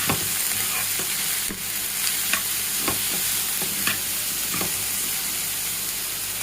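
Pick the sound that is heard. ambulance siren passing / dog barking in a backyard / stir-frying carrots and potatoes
stir-frying carrots and potatoes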